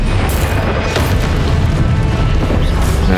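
A Stupefy spell cast in Hogwarts Legacy: a loud booming magical blast with crashing impacts in a constant, dense wash of game noise.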